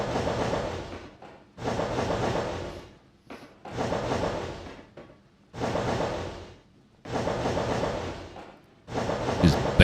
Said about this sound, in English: Just banging through those, banging through the points there.